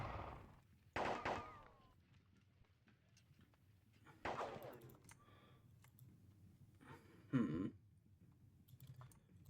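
In a Napoleonic wargame of the Katzbach battle, musket volleys crack out in three separate bursts, each a short rolling crackle of many shots, quiet and spaced apart.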